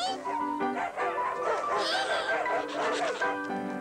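A dog yips and whimpers in a steady run of high, whiny barks in a 1983 French TV dog food advert, close and fairly loud, with no pause between them.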